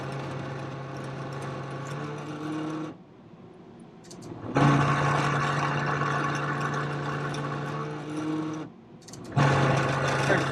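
A 2006 Pontiac G6 blower motor whirs with a steady tonal hum, briefly dropping off twice before surging back, close and continuous.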